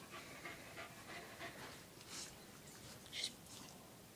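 Dog panting in a quiet indoor setting, soft rhythmic breathy puffs repeating steadily, faint and close, with a slightly louder burst near the end.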